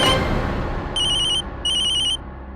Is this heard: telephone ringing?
yes